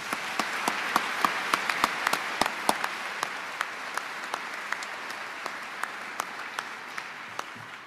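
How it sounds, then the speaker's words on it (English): Audience at a Navy change of office ceremony applauds steadily, a broad wash of many hands clapping with crisp individual claps popping out at a moderate distance, sustained for several seconds. "Another round of applause for everybody,"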